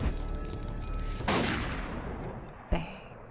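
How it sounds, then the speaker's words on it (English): A pistol fires in the video game Tokyo Dark: a sharp, loud shot with a decaying echo tail, then a second abrupt crack shortly after. "As my finger pulled the trigger"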